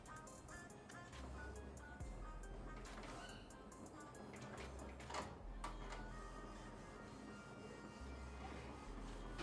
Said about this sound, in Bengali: তো আমরা দেখতে পাচ্ছি আমাদের পিভিসি প্রিন্টিং স্টার্ট হয়ে গেছে।